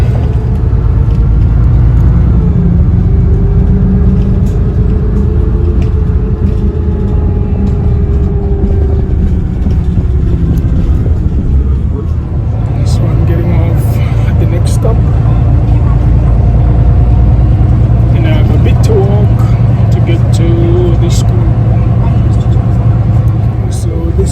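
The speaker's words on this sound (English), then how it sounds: "So I'm on the bus." The steady engine rumble of a city bus in Poland fills the ride, a loud, continuous low drone with faint rattles and a shift in tone midway.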